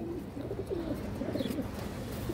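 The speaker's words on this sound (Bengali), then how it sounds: "কাজলা গিয়ারের সিলভার মাদি কবুতর দর্শক" A silver female Kajla pigeon coos nearby in soft, repeated, low warbling phrases over a steady background hum, with no one talking.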